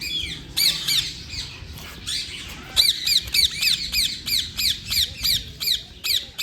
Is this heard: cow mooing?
no